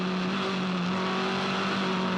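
A Formula Ford race car at Eastern Creek heard from on board, engine holding a steady high whine with strong tonal harmonics, continuous and close throughout.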